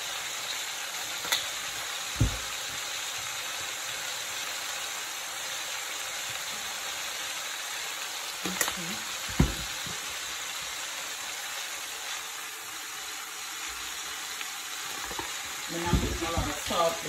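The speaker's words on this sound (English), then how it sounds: "Because I'm cooking in the butter" Cabbage and sausage frying in butter in a pan, a steady close sizzle throughout with occasional soft clinks and stirring knocks, no talking.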